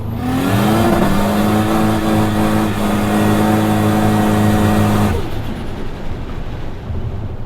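An 800-horsepower Ford FPV F6 Ute with a Barra engine roars loudly, its pitch climbing as it accelerates hard, then the tone breaks into rougher rumbling as the revs drop.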